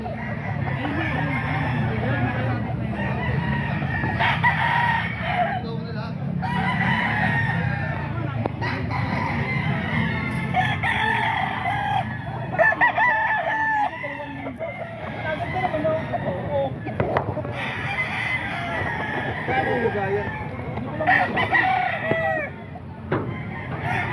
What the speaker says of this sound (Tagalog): Ito manok pa ni Boss Albert.